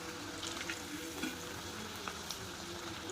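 Nippattu rice crackers deep-frying in hot oil for a crispy snack, giving a faint, steady bubbling sizzle with a few soft crackles and no voices.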